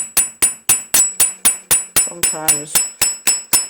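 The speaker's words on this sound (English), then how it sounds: "So I've got a nice little hammer texture on there" Small hammer taps metal wire in a steady run of about a dozen sharp, close, ringing strikes for jewelry texturing, with a brief spoken word partway through.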